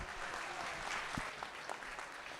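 Crowd applause at a market hog show at the State Fair of Virginia after a class of middleweight crossbred market barrows, a steady moderately quiet patter of many hands sustained throughout.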